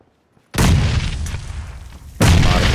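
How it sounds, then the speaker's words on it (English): A grenade goes off in a shooting video game: after a moment of silence, a loud, close blast erupts and rumbles on, then a second heavy burst hits near the end. "Heads up, heads up. She threw a grenade."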